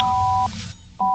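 A car alarm sounding in steady electronic beeps: one tone that holds for about half a second, stops, then starts again, heard close and fairly loud with no voices.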